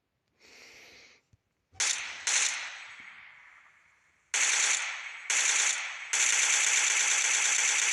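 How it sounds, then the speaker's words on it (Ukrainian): Bursts of automatic gunfire, several sustained volleys with short gaps, loud and close, no voices. "Бачите, як стріляють."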